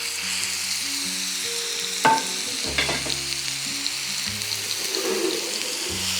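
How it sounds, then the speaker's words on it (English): Two pounds of ground beef sizzles loudly in a hot skillet of sesame oil, with a sharp burst as the meat lands and scraping stirs over the steady close frying, with no talk. "I'm gonna add 2 pounds of ground beef to my skillet"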